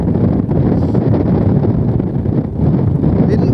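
Strong gusty wind during a snowstorm roars steadily and loudly across the microphone, swelling and dipping slightly in gusts with no voices heard.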